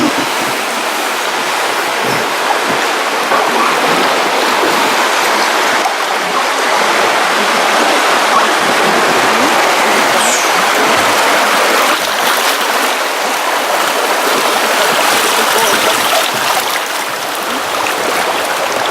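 Water swirls loudly and continuously in the Whirlpool Basin of a rocky chasm, a dense, unbroken rushing roar close by with no voices.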